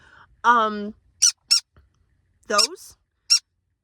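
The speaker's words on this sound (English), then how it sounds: "The chirp y'all tend to hear in my videos when she's being loud, and they're loud, short chirps" A pet gives loud, short begging chirps, several sharp high squeaks in quick bursts with brief gaps between them, close by and alone.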